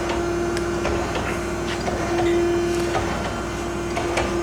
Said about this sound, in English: And I have it running right now. Hydraulics running, the spindle is running.